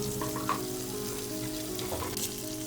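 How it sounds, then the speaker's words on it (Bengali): Onions with chili, salt and turmeric frying in oil for a hilsa fish fry, a dense continuous sizzle close up with a few light stirring scrapes. "এখন এই পেঁয়াজটা মোটামুটি ভাজি হবে"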